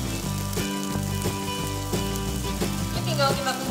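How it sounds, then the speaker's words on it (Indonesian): Spice paste for kering tempe being sautéed in a pan, giving a steady close sizzle with light clinks of stirring, continuous and fairly even throughout. "Tinggal kita tumis aja sampai bumbunya matang dan harum ya Kak Dia"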